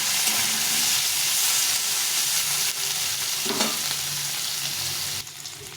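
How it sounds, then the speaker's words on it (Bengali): Capsicum, carrot and beans sizzle loudly in a pan, a continuous close frying hiss with faint stirring scrapes, easing slightly at the end. "দিয়ে এগুলো ভালো ক্যাপসিকামটা ভেজে নেব"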